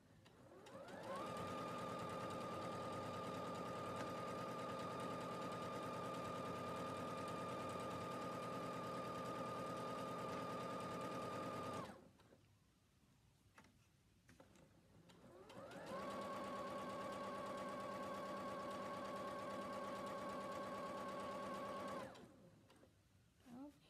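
Sewing machine stitching seams along fabric panels, running in two long steady bursts of rapid mechanical whirring separated by a short pause while the fabric is repositioned, close and clear with no talk.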